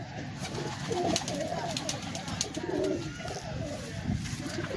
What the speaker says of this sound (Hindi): कलसरा कलदुम्बा कबूतर है, ये आप देख सकते हैं